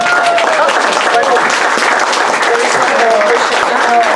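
Loud, steady applause from an audience at a talk on events in Guadalajara, with a dense wash of clapping and scattered higher tonal sounds or voices mixed in throughout.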